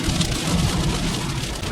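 Steady rain from a Florida summer thundercloud during a storm chase, a dense close hiss of drops pattering on surfaces throughout, with no voices.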